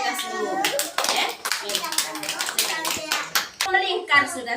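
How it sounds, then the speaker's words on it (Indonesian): Children in a classroom clap their hands in quick, uneven bursts of sharp, close claps, mixed with kids' voices and chatter throughout. "Tepuk tangan dulu untuk kita semua."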